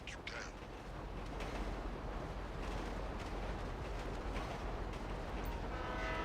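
Stolen train moving in a video game, with loud continuous rail rumble and a short horn-like blast near the start, plus some voice-like sound mixed under the noise.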